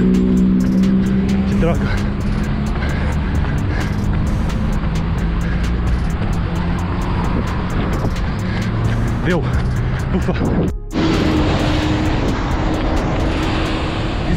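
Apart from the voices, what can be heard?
bus passing close by a runner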